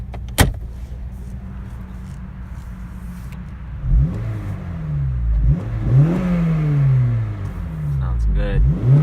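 A 2011 eighth-generation Honda Civic Si engine idles and then revs repeatedly in rising and falling sweeps, fairly close and loud, with a sharp click near the start.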